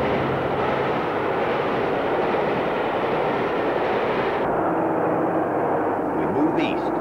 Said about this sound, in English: One more western at Dawlish, this time Western Cavalier on a London-bound train.